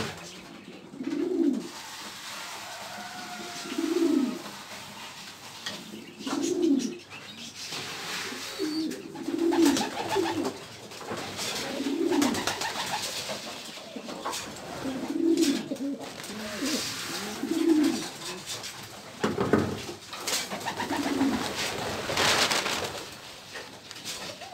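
Pigeons coo in a steady series of low, throaty calls about every two to three seconds, close by, while other birds chirp faintly behind them and a brief rustle breaks in near the end.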